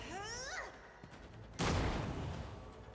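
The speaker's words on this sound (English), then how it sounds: "Throw dynamite." Dynamite explosion in the Rogue Trader game: a sudden loud blast with a noisy rumbling decay, preceded by quieter game sounds and a brief whistling effect.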